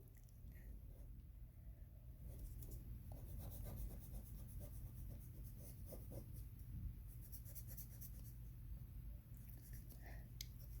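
A small folded piece of tissue is rubbed over a pencil drawing of a penguin, giving a quiet, continuous soft scratching and brushing under a low background hum.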